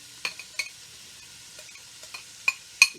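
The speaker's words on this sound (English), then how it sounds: "And that's going to saute a little bit, like that." Half an onion and three cloves of garlic saute in a pan for soup, a faint sizzle broken by a few sharp stirring scrapes and clinks of a utensil, with no talking.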